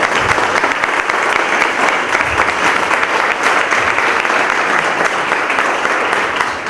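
Crowd at a Custom House grand opening applauds former postmasters, loud, dense and steady clapping from a large gathering throughout.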